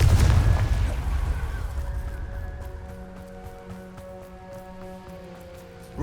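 A Confringo fire spell in Hogwarts Legacy bursts with a loud, booming explosion at the start, then decays into a long, fading rumble as tonal ringing rises and lingers in the background.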